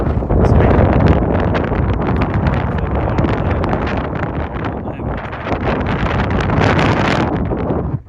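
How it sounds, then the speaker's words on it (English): Strong wind buffets the microphone in an open farm field throughout, a loud, steady roar of rumbling gusts with no voices. "It is very windy"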